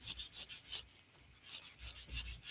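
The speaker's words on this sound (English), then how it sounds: "I'm sanding this just to give it some tooth and to give it a distressed look" A playing card is sanded by hand for a distressed, textured surface, giving repeated soft rasping strokes in a steady back-and-forth rhythm, quiet and close, with no voices.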